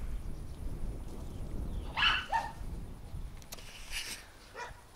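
A frightened apartment dog barks and whimpers faintly at a distance near a seaside house, with a couple of short yelps over a steady outdoor background hiss.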